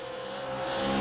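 Race cars on the Mount Panorama Circuit drone past during an overtake, a steady engine tone rising slightly in pitch and loudness over a brief moment, with no voices.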